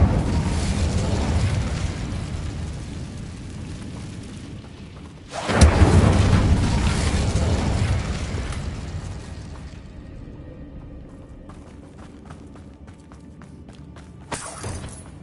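Bombarda spell explosions in the Hogwarts Legacy video game: a loud booming blast about midway that fades into a long rumbling tail, then a second, shorter pop near the end.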